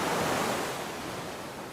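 Ocean waves wash steadily against the shore, a broad, even hiss of surf that fades slightly after the first half second, with no voices.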